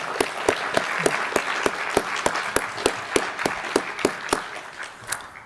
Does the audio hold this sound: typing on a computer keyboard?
no